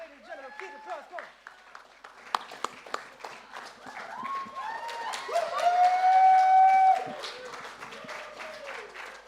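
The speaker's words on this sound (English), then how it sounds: "Keep the applause going, ladies and gentlemen." An online live poetry jam audience claps in scattered, crisp bursts mixed with cheering and excited voices, swelling toward a louder stretch of whooping before easing off.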